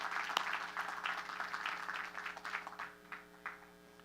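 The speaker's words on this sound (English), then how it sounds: "A big round of applause to the student leadership." Applause from the audience at the Queens College 98th commencement ceremony, a broad crowd clapping that is loud at first and gradually thins and fades over several seconds in a large hall.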